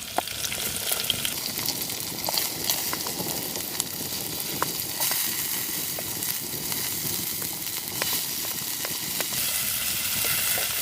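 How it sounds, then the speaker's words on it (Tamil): Onions fry in a pan with a steady, dense sizzle, close and continuous, while a spoon stirs them with scattered light scrapes and taps throughout. "லைட்டாக வந்து கிண்டிக்கலாம் லைட்டாக வெங்காயம் போட்டுக்கலாம்"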